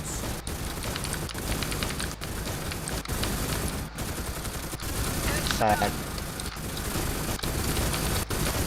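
Dense, continuous gunfire crackles throughout a video game scene, with sharper individual shots cracking at regular intervals over the din.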